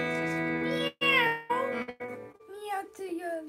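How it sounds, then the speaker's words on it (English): A pet cat meows in a string of drawn-out, strained cries during a home music jam, loud and close, with short gaps between calls and a slightly processed tone. "Meow to your left."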